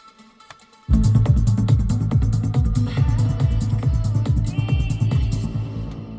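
After a brief quiet start, a squelchy acid synth line in an uplifting trance track kicks in with a driving four-on-the-floor beat, its resonant, bubbling pattern repeating loudly throughout.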